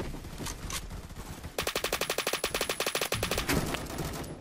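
Rapid automatic gunfire from the video game Phantom Forces rattles out in a fast, loud burst of about twenty evenly spaced shots, with scattered shots before it.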